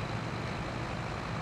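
Tractor in Farming Simulator 22 rolling along in fifth gear on cruise control pulling a roller, a steady dense engine drone with constant broadband rumble and no breaks.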